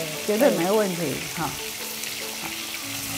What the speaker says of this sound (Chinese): 这个节瓜非常好煎就熟了，跟蘑菇一样